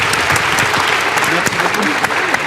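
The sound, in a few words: audience applauding the conference panel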